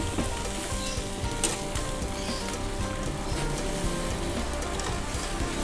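Boiled pork intestines grilling, a dense continuous sizzle and crackle with scattered sharp pops, close and steady throughout with no voices.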